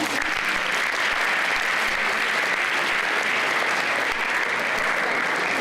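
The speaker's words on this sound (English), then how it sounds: "Oh yeah, you can clap if you want to" An audience at a school event applauds steadily, a dense continuous wash of many hands clapping at even loudness throughout, with no voices standing out.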